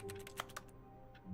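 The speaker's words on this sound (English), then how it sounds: "it sounds like I'm touching the keyboard" Rapid keyboard clicks from typing in The Stanley Parable, a quick burst of a few close, crisp key taps over a faint steady hum, then quiet.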